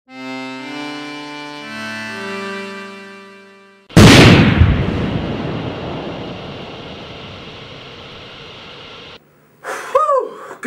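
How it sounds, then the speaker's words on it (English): In the Missile Command arcade game, a descending electronic tone sequence gives way to a loud blast and a long hissing, rumbling explosion that fades, followed by brief sharp electronic chirps. "Did you fire the missile in France?"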